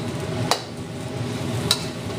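Chicken in black bean sauce stir-frying in a pan, a soft steady sizzle with two sharp scraping clicks as the food is moved around, close and alone.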